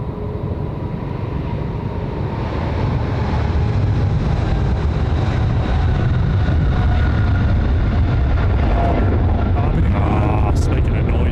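A jet airliner at Sydney Airport at night sends up a loud, broad engine roar that swells after a couple of seconds and then holds steady and heavy, with voices faint beneath it.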